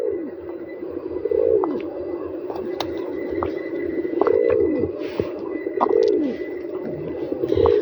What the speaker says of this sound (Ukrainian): Веркують ну, голуби, як гарно, голуби, голубки.